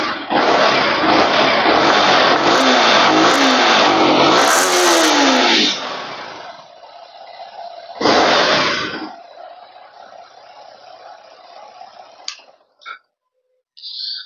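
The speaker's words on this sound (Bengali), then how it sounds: "এবার এক্সস্ট নোটটা আপনাদের শুনিয়ে দিই।" A 2025 silver Yamaha R15 M motorcycle revs hard for several seconds, the exhaust note rising and falling, then drops to idle, gives one more sharp blip, and settles into a quiet idle before cutting out.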